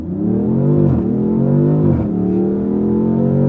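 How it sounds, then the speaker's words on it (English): A 2026 Dodge Charger Scat Pack pulls hard from a launch-control start, its engine loud and close with a rising pitch that drops briefly at each gear change before climbing again, and no talking. "I'm engaging launch control, foot on the brake, pin the throttle, building up that boost, and letting it go."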